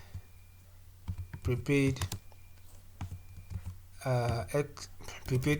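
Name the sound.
typing on a computer keyboard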